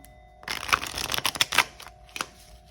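Tarot cards riffle and slap together in quick, crisp bursts, a close shuffling clatter with short pauses between, no talking.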